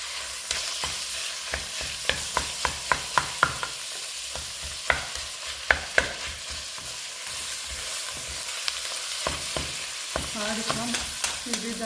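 Ground beef browning in a pan with onions, a continuous sizzle broken by repeated sharp scrapes and clacks of stirring, close and alone without speech.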